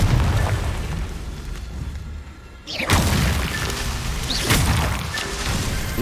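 A Confringo explosion spell goes off in Hogwarts Legacy as a loud sudden boom and crash after a quieter rumble, followed by rolling debris and further smaller bursts, close and without talking.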